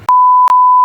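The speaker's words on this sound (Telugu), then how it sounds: "బీప్ పెట్టి పెడతా" A censor beep added in editing sounds as a single loud, pure electronic tone that holds steady for nearly a second, with a brief dip partway through and no voices.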